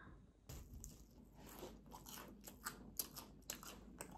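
Close, crisp bites and chewing of a fish-shaped Korean bungeoppang pastry, with repeated crunchy bites and soft mastication over about four seconds, no talking.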